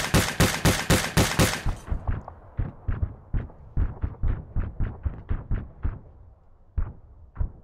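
A crew-served weapon in Arma 3 with the ACE3 mod fires a rapid burst of sharp, close shots, then a slower run of spaced reports with a short pause before the last two.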